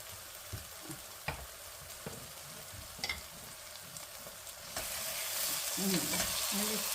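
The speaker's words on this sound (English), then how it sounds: "we have added the fried fish in and we're going to cook this down for another 2 minutes" Fried fish curry cooking in a pan, a continuous sizzle and bubble with occasional utensil taps, the sizzling swelling louder near the end; no speech.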